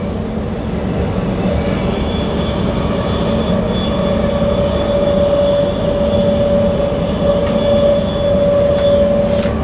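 A Transperth electric train rolls into Burswood station with a steady onboard rumble and a sustained high wheel squeal running throughout.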